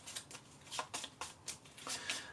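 Playing cards for the Undaunted Normandy board wargame being shuffled by hand, a quick series of crisp riffling bursts close up and fairly quiet.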